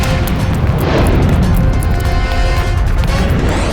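A loud, sustained crashing burst of gunshots with explosive, booming noise filling the whole stretch amid smashing impacts, with no voices.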